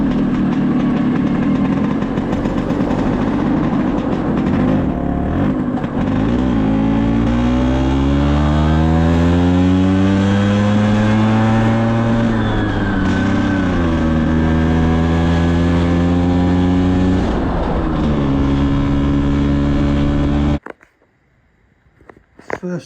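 A geared Vespa PX scooter engine revs up and down repeatedly, rising and falling in pitch, loud and close, coughing and spluttering as it picks up, then cuts off abruptly near the end.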